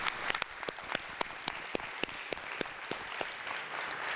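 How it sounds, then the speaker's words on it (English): A town hall audience at a public safety meeting applauds police officers, a steady wash of many hands clapping with sharper individual claps standing out throughout, moderately loud and without talk. "Can you all just give these officers that's here a round of applause for the work they do?"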